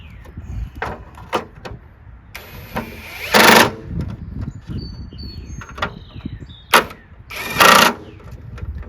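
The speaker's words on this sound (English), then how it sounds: "Just tighten down these screws." Screws are driven down on a Toro Recycler 22-inch self-propelled lawnmower with a Tecumseh engine. Two short, loud whirring bursts stand out among scattered knocks and clatter.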